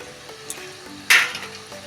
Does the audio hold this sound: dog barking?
no